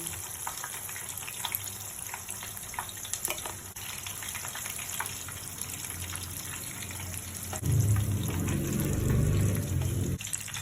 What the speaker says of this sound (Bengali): এরকম করে বাকি মাছগুলো আমি ভেজে নেব